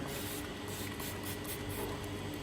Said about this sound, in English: We're going to spray this down with iodine to make sure we kill any kind of infection that's on the surface there.